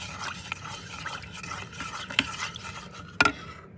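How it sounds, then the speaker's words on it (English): A spoon stirs a stock cube, water, onion powder and garlic in a pan, producing a steady run of soft scraping and clinking strokes with a couple of sharper knocks against the metal. "And then give that a stir."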